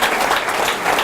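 Church congregation applause in a Mexico service, a brief dense wash of many hands clapping at once, loud and continuous with no pauses.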